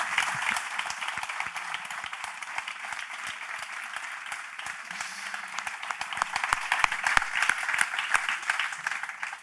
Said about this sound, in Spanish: Pero un gran aplauso,